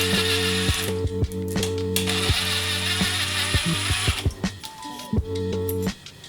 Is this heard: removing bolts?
yes